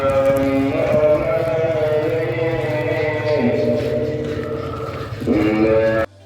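Buffaloes and other farm animals at a village house, lowing and bleating steadily and loudly for several seconds, close and continuous, layered with overlapping calls.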